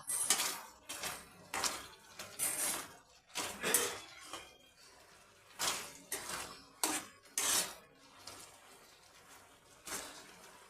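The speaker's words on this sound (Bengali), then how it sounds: "এবার আমি গ্যাসটা একটু হাই ফ্লেমে করে দিয়ে একটু নেড়ে চেড়ে নেবো" Watermelon murabba being stirred in a pan on a high gas flame: repeated scraping and clinking strokes of a spoon against metal, coming in irregular bursts with short pauses between them, close and fairly quiet, with no talking.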